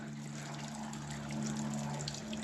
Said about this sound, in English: I hear it trickling over.